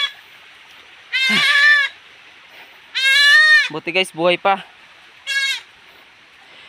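Loud, close goat bleats in several bursts, a long cry, then a cluster of short stuttering calls and one more, with a person speaking briefly between them, at a farm beside fast-flowing water.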